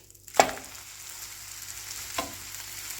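Two beaten eggs frying in hot oil in a pan, a faint steady sizzle with two sharp clicks or stirring scrapes, close and quiet, no talking.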